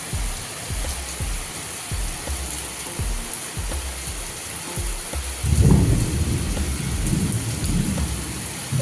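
Heavy rain hisses steadily while thunder rumbles low: short dull thumps at first, then a louder rolling rumble swells about halfway through and lingers with the downpour, no voices present.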